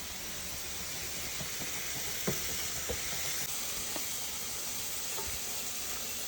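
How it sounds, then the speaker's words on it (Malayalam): Raw tapioca pieces rubbed with salt, turmeric, chilli powder and vinegar fry in hot oil, giving a steady, dense sizzle and hiss throughout, with a few faint clicks and knocks from the pan. "അമ്മ കപ്പയ്ക്ക വറുക്കാൻ വെച്ചിട്ടുണ്ട്"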